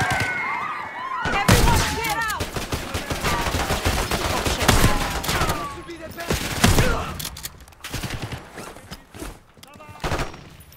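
Heavy automatic gunfire and rapid shots from the Call of Duty Black Ops 6 campaign, loud and dense throughout, with frantic shouting voices mixed in over the bursts.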